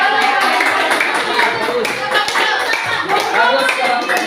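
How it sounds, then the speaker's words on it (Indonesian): A classroom of students claps for a presenting group, a dense, steady patter of hand claps filling the room throughout, fairly loud and close, with some voices mixed in. "Sekali lagi tepuk tangan untuk kelompok 5."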